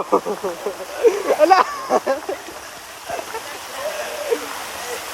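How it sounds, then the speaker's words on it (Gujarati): Heavy floodwater after a downpour rushes across village farmland in a steady, loud roar, with voices talking briefly over it at the start. "પાણીનો પ્રવાહ"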